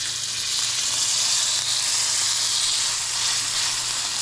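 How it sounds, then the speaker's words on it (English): A steak sizzles loudly in hot grease after being dropped into the pan, giving a continuous bright frying hiss from start to finish with no talking. "we're gonna drop the steak in"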